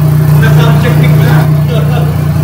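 A brand-new 2024 BMW 1300 GS adventure motorcycle, Option 719, idles on its stock exhaust after a cold start, giving a loud, steady, low droning rumble.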